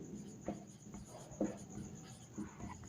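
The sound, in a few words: writing out a math equation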